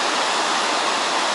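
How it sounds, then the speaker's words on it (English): Sizable river in Snowdonia, swollen with snowmelt, rushing as a steady, full broadband roar of water that stays constant throughout, close and loud with no voices. "it's quite a sizable river"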